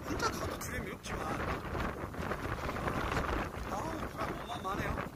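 Strong gusting wind on a mountain summit trail in rain, roaring and buffeting the microphone throughout, with a person talking over it.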